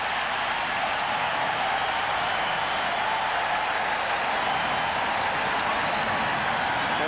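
Large baseball stadium crowd at the 1995 MLB All-Star Game in Arlington, Texas, roaring and clapping after a runner is thrown out, a steady dense wash of cheering throughout with no talk.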